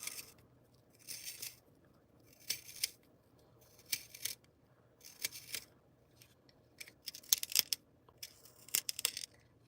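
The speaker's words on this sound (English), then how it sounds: "I know I'm writing with a pen, but we can still do the pencil ASMR." Pen writing on paper in an ASMR session, heard as repeated short bursts of crisp scratching strokes separated by brief pauses, close and fairly quiet, with no talking.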